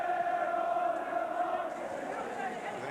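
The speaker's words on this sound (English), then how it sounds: "With an enthusiastic crowd behind them" Broad crowd noise fills a football ground during a Luton Town v Everton FA Cup quarter-final on Luton's synthetic pitch. It is a steady, fairly loud roar with no distinct chants or peaks, and commentary runs over it.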